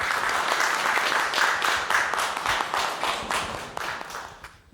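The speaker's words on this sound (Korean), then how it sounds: "큰 박수로 환영해 주시기 바랍니다" Audience applause welcoming a speaker at a lecture, a dense, steady round of many people clapping that gradually thins and fades out near the end.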